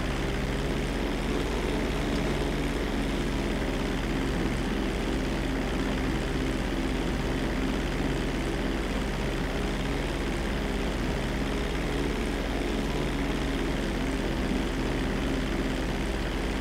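Propeller airplane engine droning steadily in flight in GTA 5 Online, a loud, continuous mechanical roar that fills the whole stretch with no pauses and no talk over it.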